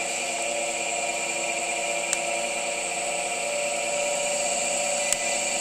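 A Soviet-era asynchronous motor rotary converter idles with no generator load attached, giving a steady, close mechanical whine and hum layered with bright tones, continuous and unchanging, with a couple of tiny ticks and no voices.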